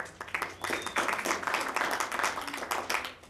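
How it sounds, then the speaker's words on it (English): Steady audience applause fills the moment, a dense patter of many hands clapping at moderate volume with no talking, at a council meeting. "that applause wasn't for you."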